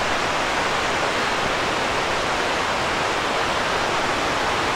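A waterfall at the end of a hiking trail roars in a loud, dense, unbroken rush of falling water, steady and close throughout.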